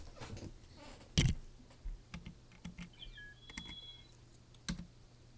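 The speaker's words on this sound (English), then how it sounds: "I'll type it." A computer keyboard is typed on in scattered close clicks and taps, with a few louder key strikes and quiet room noise between them.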